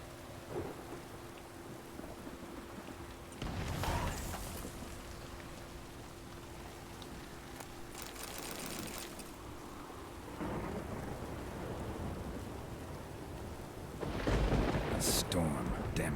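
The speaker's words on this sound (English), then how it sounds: "A storm, damn it." A thunderstorm with rain in The Witcher 3, with steady rainfall and several loud rolling thunder cracks and rumbles spread through the scene, close and prominent.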